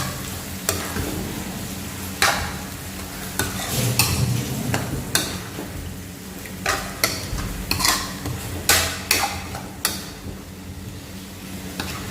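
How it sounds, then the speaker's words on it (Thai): Long beans stir-fried with red curry paste: steady close sizzling with repeated scraping, clattering strokes of a utensil at an uneven rhythm, with no voices. "ผัดพริกแกงถั่วฝักยาวสูตรบ้านๆนะครับผม"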